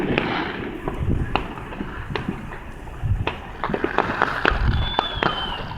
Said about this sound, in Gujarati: બધા એ બાજુ રોકેટો સૌથી વધારે ત્યાં જ કન્ટિન્યુઅસ ચાલે છે.